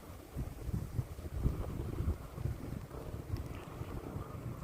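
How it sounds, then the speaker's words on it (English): Steady, gusty wind buffets the microphone with low rumbling roar throughout, constant and loud, with no voices. "it is so nice today, but it's so windy"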